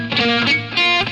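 An electric guitar with distortion plays a quick sweep-picking run, bright sustained notes rising and falling in two short bursts, close and loud.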